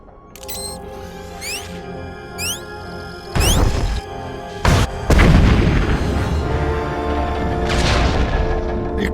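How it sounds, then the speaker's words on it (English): A heavy explosion detonates during a Sith Inquisitor story mission on the planet Voss, a deep booming blast after some clicks and mechanical sounds, followed by a loud rumbling roar that lingers over an ambient game backdrop. "explosion shook the ground."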